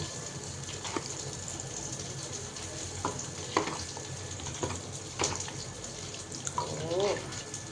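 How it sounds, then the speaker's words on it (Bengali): Spices being fried in a pan for a jackfruit curry give a steady close sizzle, broken by a few sharp scraping stirs and clinks of a utensil against the pan. "আর একটু মশলা কষাচ্ছি।"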